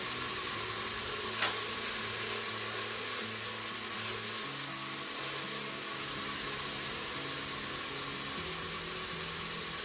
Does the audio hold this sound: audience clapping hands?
no